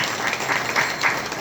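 An audience at a ceremony for an Indian Overseas Bank branch and a religious sansthan applauds, a steady wash of many hands clapping at moderate distance, short and even throughout.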